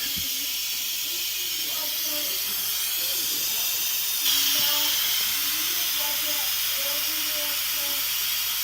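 Steam rushes steadily out of an Instant Pot's pressure release valve, a loud, continuous close-up hiss that holds for several seconds and swells slightly partway through.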